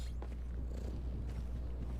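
A cat purrs steadily in a FiveM GTA roleplay house setting, a low continuous rumbling loop that stays close and even for the whole stretch with no talking over it.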